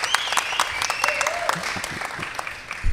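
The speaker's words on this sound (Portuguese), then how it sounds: "Palmas para os nossos convidados." Applause for two guests arriving on a Brazilian podcast set, a steady patter of hand claps with some crowd noise and overlapping voices, fairly close and continuous throughout.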